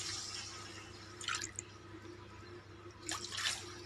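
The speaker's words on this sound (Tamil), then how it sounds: "1க்கு 4 டம்ளர் தண்ணி ஊற்றுறேன் நான்." Water is poured into a cooking pan while rava upma is being made, heard as two short, splashy bursts of pouring against a quiet kitchen background.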